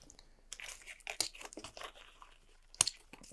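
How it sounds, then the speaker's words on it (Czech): Compression straps are unclipped on an Eberlestock F1 Mainframe military pack: soft rustling of webbing and fabric with a couple of sharp plastic buckle clicks, close and fairly quiet. "pokud zcela vycvaknu kompresní lomeno kotevní popruhy"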